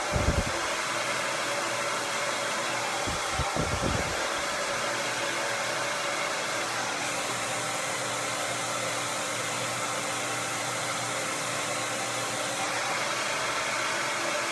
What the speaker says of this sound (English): And we're gonna start to blow dry.